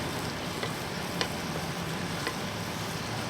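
Green gram and mango frying in oil in a non-stick pan, a soft continuous sizzle with faint occasional stirring taps, quiet and close with no talking.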